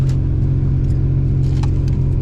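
Turbocharged 3800 V6 idling high at around 2,000 RPM with its idle air control valve stuck open, a loud, steady engine drone close by throughout, no voices.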